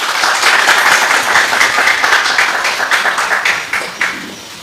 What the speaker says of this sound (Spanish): Dale un aplauso de agradecimiento a Jesús